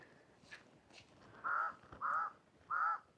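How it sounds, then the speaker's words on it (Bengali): A crow outside a rural hillside home in Rwanda gives three loud, close caws at even intervals against a quiet outdoor background. "কাক ডাকতেছে"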